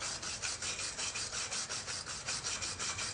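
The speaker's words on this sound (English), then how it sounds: "I got a wire brush" A wire brush scrubs rust and dirt off steel in quick back-and-forth strokes, a faint, rhythmic scratchy rasp repeating about five times per second, close and alone.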